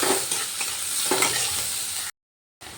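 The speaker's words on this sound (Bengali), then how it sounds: "এবার পেঁয়াজগুলো একটু ভালো করে ভেজে নেব।" Chopped medium onion frying in oil in a pan, a dense steady sizzle with a few stirring scrapes, close and alone, breaking off into a short silence near the end.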